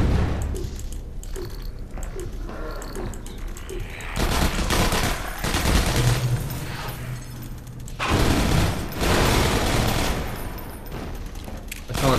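Automated turrets in Half-Life 2: Episode 1 fire long, loud, dense bursts of rapid shots, breaking off briefly and then starting again.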